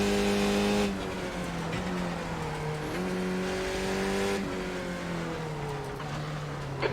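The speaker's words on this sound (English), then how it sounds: "Getting swarmed by F3 cars here." Several F3 open-wheel race cars swarm together in the iRacing sim, their high-pitched engines droning loudly and continuously with shifting, overlapping pitches as they run close on track, with no talk.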